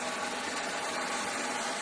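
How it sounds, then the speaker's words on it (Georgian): An electric motor runs on a homemade well-drilling rig, giving a steady, unbroken mechanical hum and whir close by for the whole moment. "ეს გახლავთ ელექტრის ძრავი"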